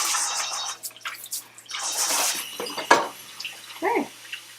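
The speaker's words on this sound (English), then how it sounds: "I like to rinse everything right away so it won't stain." Running tap water rinses beets in a kitchen sink, a steady splashing broadband wash with a few brief drips and knocks, close and moderately loud.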